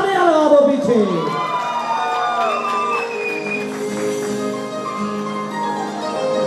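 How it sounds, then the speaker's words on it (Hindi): An audience at a Matiana Student Welfare Association cultural program cheers and shouts, with excited voices, whoops and some children's cries. The crowd noise is loudest at the start and then holds as a steady, lively din. "सबके लिए जरा जोरदार तालियां लगा दो पीछे"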